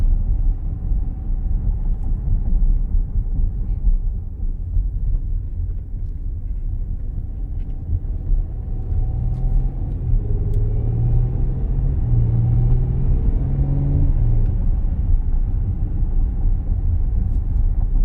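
A 2020 Porsche Cayenne S driving in sport mode, its engine a steady low rumble with road noise throughout and a rising tone partway through as it pulls harder.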